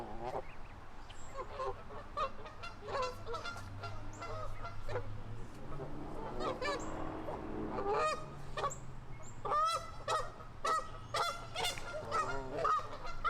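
Canada geese honk and squabble in a spring wetland, a pair's loud, overlapping honks and harsh calls repeating in quick irregular bursts close by, with fainter birds and a low steady hum in the background.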